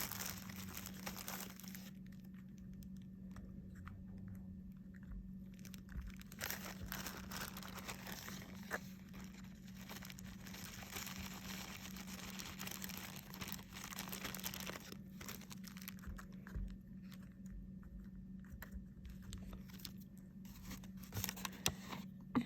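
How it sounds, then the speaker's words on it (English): Loose leftover potting soil is sprinkled over seeds in a recycled bottle planter, giving soft crinkly patters and light gritty rustles that come and go over a steady low hum, close and quiet. "And now I'm just going to fill in with my leftover dirt. Sprinkle that on top. Just cover my seeds."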